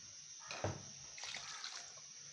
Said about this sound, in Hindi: उसी हिसाब से मैं इसमें पानी ऐड करूँगी।